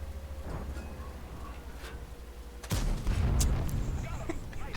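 A sudden heavy blast from the Strv K tank gun in World of Tanks, firing once near the middle amid game ambience and rumbling engine noise, followed by a sustained louder rumble.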